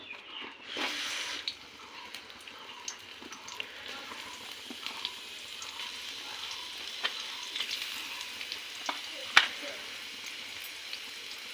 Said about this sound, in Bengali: কড়াতে তেল দিয়েছি এবারে পেঁয়াজ কুচিগুলো দেবো